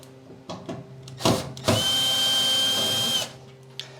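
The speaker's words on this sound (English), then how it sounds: "and take the two screws out." Power drill backing Phillips screws out of a Whirlpool dryer panel: short close bursts of whirring, then one sustained loud spin of about a second and a half, with light handling clatter.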